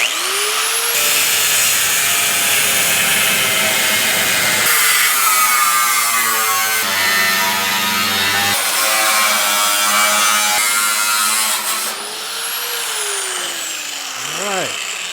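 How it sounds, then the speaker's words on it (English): A cutting tool slices through the thin sheet metal of a GTO car's rusty quarter panel, a loud, continuous high whine with shifts in tone as the blade moves, easing off near the end. "I'm making sure I'm only cutting through this single strength right here, not where it's spot welded together"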